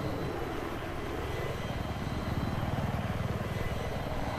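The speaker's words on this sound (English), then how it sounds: "They have a jet." Jet aircraft taking off in the Battlefield 3 video game: a steady, loud engine roar over a dense pulsing low rumble, continuous throughout with no talk.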